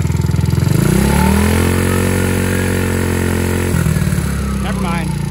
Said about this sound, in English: All right, let's give it some gas.